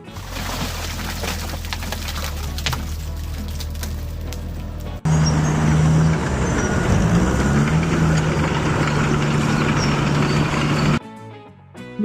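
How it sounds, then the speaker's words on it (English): A heavy vehicle's engine idles with a steady low rumble, shifting to a louder, rougher drone midway before cutting to quieter sound near the end. "Heavy vehicle."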